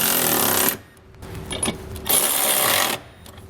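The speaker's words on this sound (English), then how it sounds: "We can then go back and tighten them down with a 3/4 inch socket and wrench." Ratcheting tightening of flange nuts with a 3/4 inch socket and wrench while mounting a Curt trailer hitch receiver on a 2004 Subaru Outback wagon: two loud bursts of rapid metallic clicking, separated by a quieter pause.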